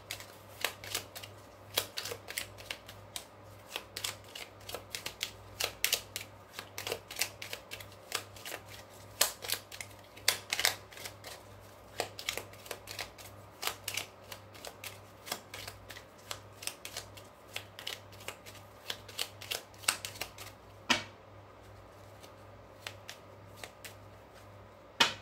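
Oracle cards shuffled by hand at close range, a long run of quick, crisp riffling flicks and soft slaps in an irregular rhythm, fairly quiet and with no talking.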